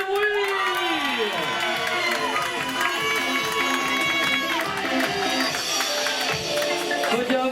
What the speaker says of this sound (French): attention pour le tonnerre d'applaudissements pour Carole, fais du bruit